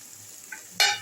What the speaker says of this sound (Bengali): ভেজে রাখা সোয়াবিনগুলো এর মধ্যে দিয়ে দিলাম খুব ভালো করে লো ফ্লেমে আমি এটা মাখিয়ে নিচ্ছি মশলার সঙ্গে টমেটো ক্যাপসিকামের সঙ্গে মাখিয়ে নিচ্ছি